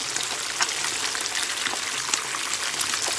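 Escovitch fish, Jamaican style, frying crisp in hot oil after being turned, a dense, even sizzle of fine crackles and pops at moderate level, steady throughout with no talking.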